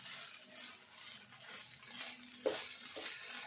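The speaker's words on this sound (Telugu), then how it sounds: "ఇట్లా అంతా కలుపుకొని ఇట్లా మంచిగా కలుపుకొని" A spoon stirs a flattened rice (poha) mixture in a pan, soft scraping and shuffling at close range, quiet, with a sharper scrape of metal near the end.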